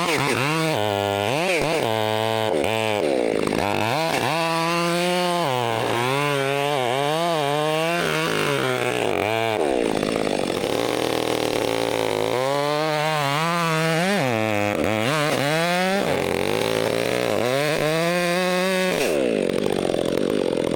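A chainsaw makes the first cut into a branch of a large tree during land clearing, its engine revving up and down in repeated surges as the chain bites, loud and close throughout.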